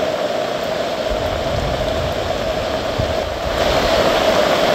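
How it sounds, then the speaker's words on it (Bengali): Heavy rain pours steadily in the deep hills of Bandarban, heard from shelter inside a jhum hut as a dense, even hiss that continues unbroken from start to finish. "প্রচুর বৃষ্টি হচ্ছে"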